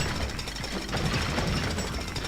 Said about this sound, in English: a jackhammer is just like, go for it, have fun